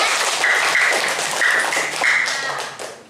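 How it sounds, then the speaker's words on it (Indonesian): Children applauding in a primary school classroom, a steady patter of many small hands clapping that rises and falls in waves, with a few sustained high voices cheering over it before it fades. "Ya, tepuk tangan dulu untuk kita semua. Ya. Ayo yang semangat tepuk tangannya."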